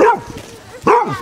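A Basset Hound barks twice nearby on a walk at Otterton, South Devon, two loud separate barks with a short pause between them.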